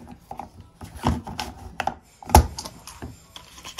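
The button of a brush cutter's trimmer line head being pried off with a wrench or screwdriver, producing scattered close plastic clicks and scrapes with one sharper snap midway.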